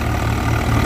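Tractor engine running with a reaper attached in a field, a steady low rumbling drone close by and loud, with no talking over it.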